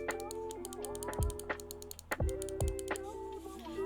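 Budget gaming mouse buttons clicking, a quick series of sharp close clicks with thuds, over a faint steady background hum.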